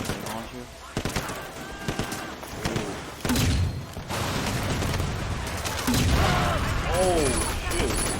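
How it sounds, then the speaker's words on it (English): Heavy gunfire and booming launcher blasts ring out during a shootout in Sleeping Dogs, loud thuds and bursts layered under voices talking. "This thing has a grenade launcher."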